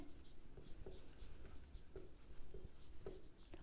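A pen writes on paper while someone fills in a ledger account, giving steady close scratching strokes with small taps every half second or so, quiet and without talk.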